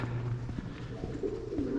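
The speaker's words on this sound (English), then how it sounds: "lots of birds to listen to and everything" Low, soft cooing of pigeons nearby, a few murmuring calls overlapping briefly, with faint outdoor background noise.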